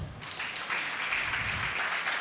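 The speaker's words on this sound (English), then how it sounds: "Another one clap." Audience applause at a university entrepreneurship pitching competition, a steady wash of many hands clapping that holds for a couple of seconds at moderate volume.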